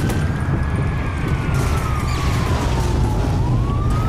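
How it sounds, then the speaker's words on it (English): A police car siren in the video game Watch Dogs wails in a slow, steady rise and fall over a continuous rumble of engine and street noise. "Siren is on."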